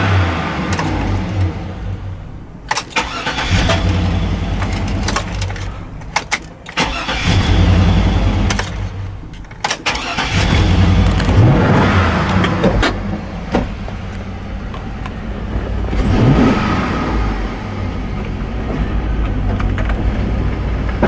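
A newer car at a dealer-only wholesale auto auction, its engine starting and then running, rising and revving in waves and settling back, loud and close for about twenty seconds.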